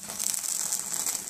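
Alcohol flaming off in a hot pan on an electric range gives a steady, close hiss and sizzle with a bright airy texture, holding at an even level throughout with no talk.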